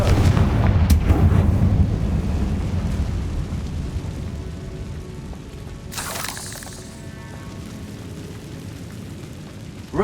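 A Confringo blasting curse in the Hogwarts Legacy video game goes off as a heavy booming explosion, followed by a sharp crackling burst and a fading rumble.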